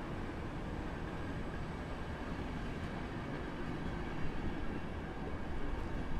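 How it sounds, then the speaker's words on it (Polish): Passenger train wagons, including a Hungarian first-class coach, a restaurant car and second-class cars, roll through Warszawa Zachodnia station with a steady, broad rumble that swells slightly toward the end, with no voices. "Wagon pierwszej klasy węgierski. Wagon restauracyjny. Grupa wagonów klasy drugiej."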